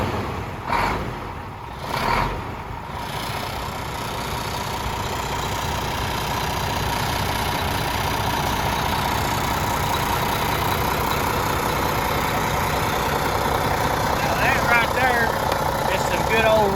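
A Mack truck's engine idles with a continuous deep rumble that grows steadier after a few initial thumps and knocks. The idle stays loud and close throughout, with no talking over it.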